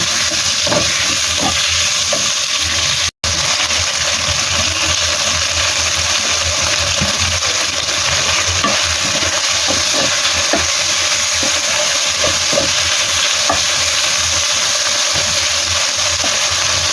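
Food sizzles steadily in a pan after being seasoned with salt, soy sauce and cornstarch, a loud, continuous frying hiss with faint stirring clicks throughout and one brief dropout.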